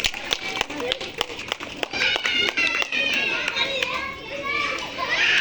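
Children and audience at a small school event for 16 December clap repeatedly in a busy, lively room, sharp irregular claps mixed with children's voices and chatter throughout.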